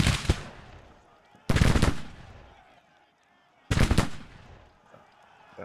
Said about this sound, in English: Alright, gonna start the shooting.